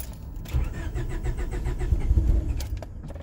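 A Honda Prelude engine cranking on a cold start, tuned with a Hondata S300: a steady, close starter churn with regular pulsing chugs that runs for several seconds without catching, then a brief mechanical clatter near the end.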